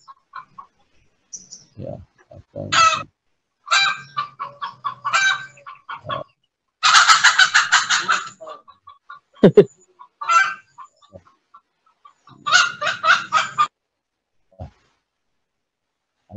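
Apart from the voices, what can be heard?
chicken clucking nearby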